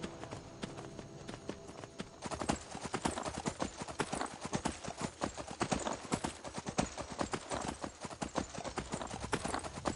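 Horse hooves clip-clop in a steady, fast rhythm while a horse is ridden along a mountain path in Skyrim, loud and continuous over a constant background wash of game ambience.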